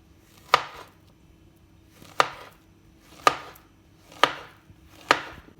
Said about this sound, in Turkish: Onları soyup doğruyoruz. Parmak genişliğinde doğruyoruz.